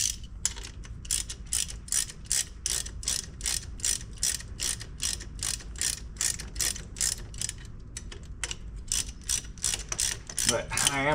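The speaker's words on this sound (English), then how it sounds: "Run it a little bit, get some of that nasty old grease out of there" Old greased mechanism on a White 4-270 tractor being run, giving a steady rapid train of mechanical clicks and ratcheting clatter close by, continuous for the whole stretch with no talking.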